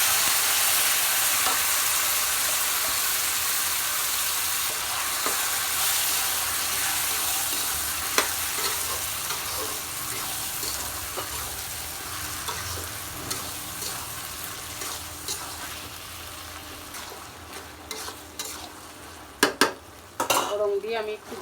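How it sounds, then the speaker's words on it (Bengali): Meat frying in a pan with already-browned onion and garlic, a continuous close sizzle under repeated scraping and stirring, with clinks of a utensil against the pan toward the end. "ভাজা হয়ে গেছে পেঁয়াজ রসুন। এবার আমি মাংসটা ঢেলে দিব।"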